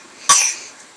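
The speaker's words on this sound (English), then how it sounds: "Ah, you coughing? My poor sick baby." A sick baby gives a single short, sharp cough close by, which fades quickly into quiet.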